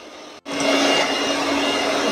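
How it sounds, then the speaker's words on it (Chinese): An electric hand mixer whips 200 grams of cream with 30 grams of sugar, starting abruptly after a brief silence and then running as a loud, steady, close whirring buzz with no talking. "用电动打蛋器打发"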